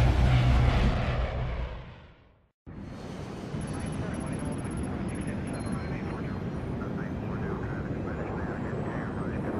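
Steady, loud drone of an airplane engine in the game Splinter Cell Blacklist, rising after a brief silent gap and continuing without a break, with voices talking over it.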